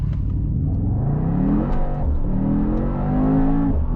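A Mercedes-AMG GT 63 S E Performance hybrid pulls hard from a standing start without launch control, its engine rising through the revs with a shift before climbing again, loud and close from inside the car.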